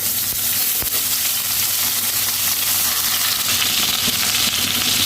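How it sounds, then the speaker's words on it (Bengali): Eggplant pieces salted and dusted with turmeric fry in hot oil left from fish, a loud dense sizzle that crackles without pause, close up, with occasional sharp pops. "এই তেলের মধ্যেই আমি আগে বেগুনগুলোকে ভেজে নেব"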